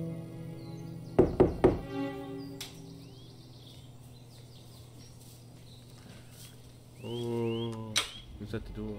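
A door is knocked on: a quick cluster of three or four sharp raps, then a quiet stretch, followed by a voice and another single knock near the end.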